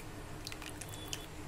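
Dissolved tamarind water added to an anchovy fish curry cooking in a pan, a faint soft sizzle with scattered small wet pops and drips over a steady low background, no voices.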